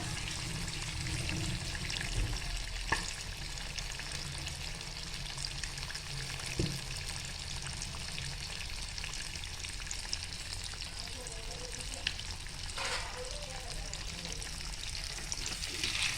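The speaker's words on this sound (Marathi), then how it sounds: "दुसरं आपण फ्राय करायला टाकतो. एका वेळी 2 फ्राय होऊ शकतात, त्यामुळे आपण हे फ्राय करून घेऊया" KFC-style chicken pieces frying in hot oil on a gas stove, two at a time, giving a steady broadband hiss with a few soft pops and bubbling, fairly quiet and continuous throughout, with no talking.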